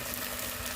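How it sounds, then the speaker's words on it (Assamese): Taro pieces frying in a pan with tomato, salt and turmeric, a steady dense sizzle, close and fairly loud throughout with no breaks. "এই কচুখিনি দি ধুনীয়াকৈ ভাজিম"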